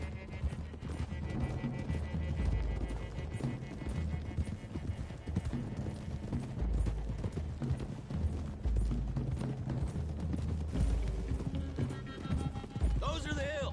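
Horses gallop in Red Dead Redemption 2, with steady clip-clop hoofbeats running under a continuous music bed and game dialogue throughout.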